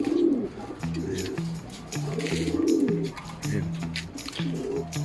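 Racing pigeons coo in repeated low, rolling calls at close range, several overlapping phrases over faint background noise.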